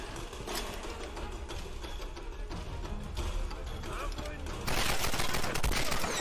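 Rapid bursts of gunfire in the video game Tomb Raider crackle continuously, dense and mechanical, growing louder near the end, with faint voices underneath.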